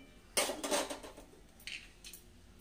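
A metal wok clanks down onto a stovetop with a few rattling knocks, followed by lighter clinks, fairly close and brief.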